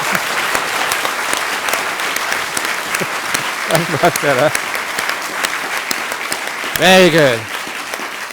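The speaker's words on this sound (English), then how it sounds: "If you're going to clap," A crowd at a Buddhist talk claps in sustained, brisk applause, while someone speaks briefly over it twice.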